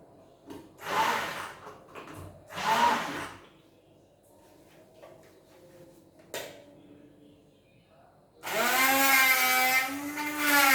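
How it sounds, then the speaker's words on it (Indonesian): A kitchen blender grinds cut spice paste in loud whirring bursts: two short pulses early on, a brief quieter pause with clatter, then a sustained high-pitched spin at the end. "Masukkan ke dalam blender ya."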